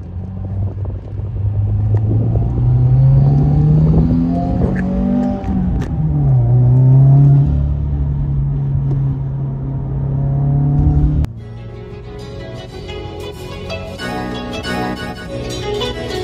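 Subaru WRX driving on a clear day, with a steady engine drone and rising revs through gear changes, loud and close from the cabin, then a quieter, smoother stretch of road noise toward the end.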